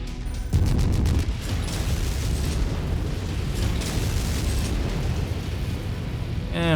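Missile explosions in MechWarrior 5, a loud deep boom that opens into a sustained rumbling roar of blasts and debris, with a sharp burst again at the very end.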